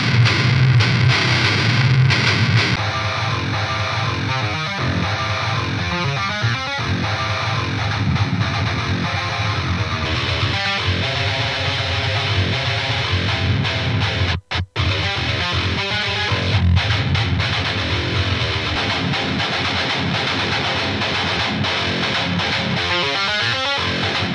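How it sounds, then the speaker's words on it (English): Heavy distorted metal electric guitar riffs in very low tuning, recorded through three different amps, play continuously, thick and saturated, with a brief dropout midway before the chugging resumes. "You just heard the guitars and there was three different amps I was using there."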